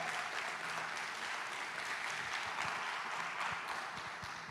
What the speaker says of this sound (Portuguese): Você crê, recebe aí, aplaude a Ele